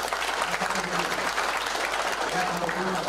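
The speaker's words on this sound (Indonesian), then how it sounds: "Tolong tepuk tangan buat beliau." Audience applause at a university event, sustained dense clapping from a seated crowd in a hall, steady and moderately loud throughout.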